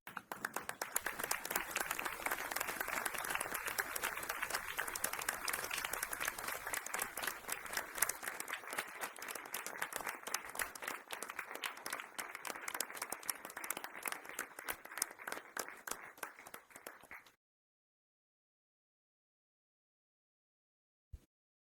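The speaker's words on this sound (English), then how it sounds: "give her a round of applause wherever she may be" A large audience at a board meeting claps steadily for about seventeen seconds, a dense wash of applause that stops abruptly, followed by silence and one faint click.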